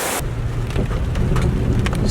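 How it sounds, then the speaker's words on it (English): Steady rain falling outdoors, a dense continuous patter with a low rumble underneath and no voices. "as you can see, it's still raining,"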